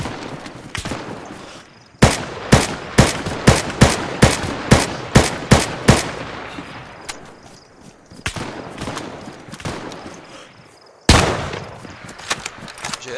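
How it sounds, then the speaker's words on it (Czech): Game-style gunfire in DayZ: a run of sharp, evenly spaced shots, then scattered bursts and one more loud blast, all close and punchy. "on furt po mě střílí"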